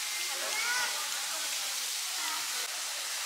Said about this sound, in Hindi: जो झरना आप देख रहे हैं बहता हुआ